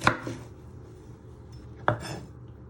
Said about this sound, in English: So you first chop down the middle, then you chop them both into half